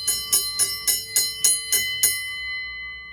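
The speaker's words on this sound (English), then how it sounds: "Then you have a bell that can be used as a trolley bell, a boxing bell, a fire bell." A Style 41 American Fotoplayer bell, used as a trolley or fire bell, is struck eight times in quick, even succession, then left to ring out with a long, clear, shimmering decay.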